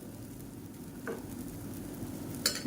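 Millet dosa batter meets a hot griddle with a steady, close sizzling hiss, plus a couple of brief scraping touches from a ladle, and no talking.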